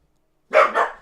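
A single dog gives a quick double bark, close and fairly loud, in an otherwise silent moment.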